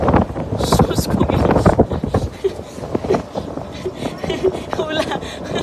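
Gusty wind buffeting a microphone outdoors during rain, rough low rumbling bursts that swell and fade irregularly, with a person talking over it.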